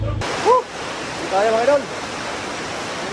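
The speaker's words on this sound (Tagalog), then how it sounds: "Tapos lakas ng ulan." Heavy rain falling steadily, a constant broad hiss filling the whole stretch while someone speaks briefly over it.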